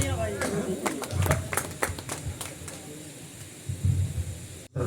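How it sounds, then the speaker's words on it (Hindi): Scattered claps ring out from an audience at an outdoor Hindi kavi sammelan poetry gathering, a handful of sharp, uneven hand claps rising briefly over talking voices and background crowd noise. "जोरदार तालियां भाई।"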